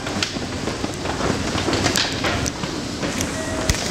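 A train pulls away from a station with a loud, busy rumble and rattling clatter close by, with a few bright metallic squeals near the end.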